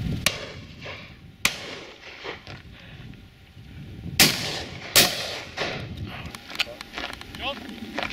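Shotgun shots ring out at a pheasant and partridge shoot, several sharp reports near and farther off, with people talking outdoors between them.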